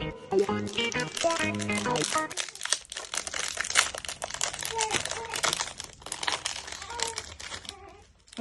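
Crinkly plastic packaging of a Gaafar El Omda biscuit bag being torn open and handled, a steady close rustle running the whole time with people talking over it.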